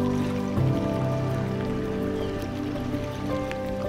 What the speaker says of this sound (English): You can hear all the ice popping.